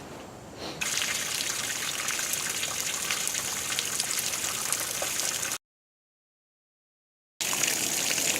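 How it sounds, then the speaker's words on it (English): Steady rainstorm with water gushing and trickling toward catch basins, a dense continuous wash of running water and drops that holds at an even level, then drops out completely for about two seconds before returning. "this is going to be a rainstorm, one of those steady rains that's going to go on for a long time."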